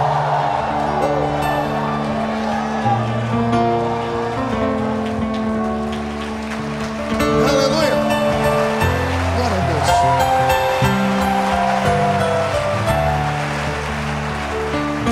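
Church congregation shouting a loud victory cry, a dense roaring crowd of voices and cheers sustained for about fifteen seconds with a brief dip midway before swelling again.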